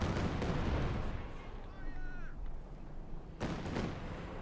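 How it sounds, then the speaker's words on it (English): Katyusha rocket artillery firing during a Company of Heroes 2 battle, a dense rumbling barrage with sharp bursts and a whistling rocket streak, ending in another loud blast, heard under game commentary. "Katyusha firing, Pioneers under some intense fire here from Dezman's positions."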